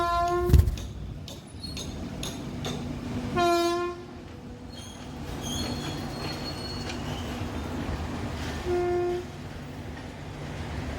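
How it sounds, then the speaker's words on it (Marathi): A Konkan Railway train rolls past close by with a steady rumble and clatter, a couple of brief horn-like blasts sounding over it, with no talking. "कोकण रेल्वे आता पण मजा वाटती रेल्वे बघायला"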